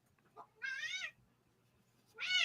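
A domestic cat meows twice nearby, each call long and drawn out with a rising-falling tone, separated by a short quiet pause.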